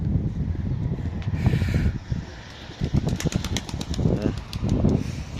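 Two smoky-colored female pigeons take off and fly, their wings flapping in quick bursts against outdoor wind noise, close at first and then drifting farther away.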